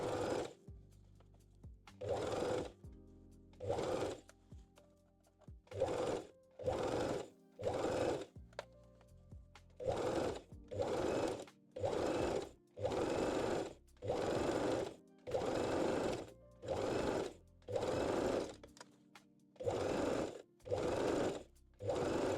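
A sewing machine stitches stretched elastic onto a lace thong in repeated short bursts of rapid mechanical chatter, roughly a dozen runs separated by brief pauses, close and clear with no talking.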